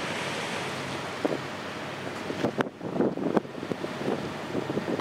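Water of Lake Maracaibo laps and splashes at close range against a wall, over a backdrop of wind rumble, with a few sharper splashes standing out.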